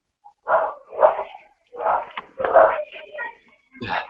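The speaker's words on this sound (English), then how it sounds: "Got the dog barking." A dog barks several times in short separate bursts, fairly close, with brief gaps between the barks.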